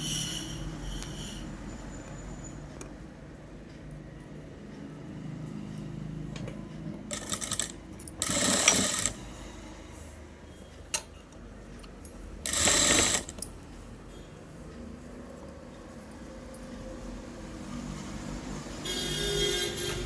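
A sewing machine stitches cloth lining in two short whirring bursts, one around the middle and one a few seconds later, between quiet clicks and handling noises.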